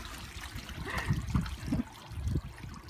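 A dog splashing in a backyard swimming pool, with irregular bursts of sloshing water rising and falling at close range, with no talk.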